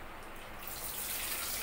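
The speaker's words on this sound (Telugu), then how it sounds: "ఇప్పుడు మనం కొన్ని వాటర్ పోసుకుందాం" Water is poured into a pot of simmering mutton curry, giving a short, soft, steady splashing pour that builds slightly as it continues.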